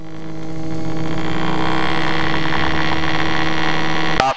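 An aerobatic training aircraft's engine roars steadily and loudly during its takeoff run, a dense, vibrating drone with a strong tonal hum that builds over the first second and holds, heard from inside the cockpit.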